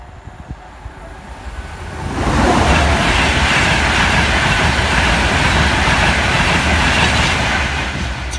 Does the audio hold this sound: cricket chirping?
no